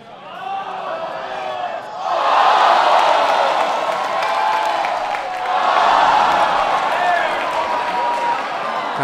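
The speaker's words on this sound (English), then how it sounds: "You probably heard the crowd go a little bit nuts there." A crowd at a junior women's gold-medal game erupts in loud cheering and applause, the roar swelling, dipping briefly, then surging again.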